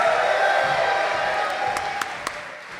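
A convention audience claps and cheers for guests, steady broadband applause fading slightly toward the end with a few sharp claps near the close.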